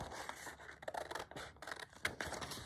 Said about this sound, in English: So let's cut it out.